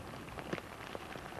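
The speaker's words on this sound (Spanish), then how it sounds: "Lluvia graneada sobre la tierra seca, sobre las lavas volcánicas." Steady rain falling on dry earth and volcanic lava rock in a valley, a soft, fine patter of drops at low level with a few slightly louder taps, no voices.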